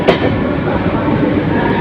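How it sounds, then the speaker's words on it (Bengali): Sirajganj Express, a Dhaka-bound passenger train hauled by a 6000-series locomotive, rolling into Airport railway station: a steady, loud broadband rumble of wheels and carriages, continuous and close, with a brief sharp clank near the start and a voice faintly mixed in. "সিরাজগঞ্জ থেকে ছেড়ে আসা ঢাকামুখী সিরাজগঞ্জ এক্সপ্রেস ট্রেনটি বিমানবন্দর রেল স্টেশনে প্রবেশ করেছে"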